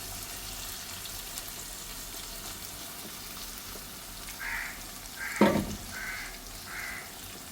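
Ground masala frying for chicken curry, a steady soft sizzle in a pan with scraping stirs and a clattering knock near the end, some faint bird calls in the background.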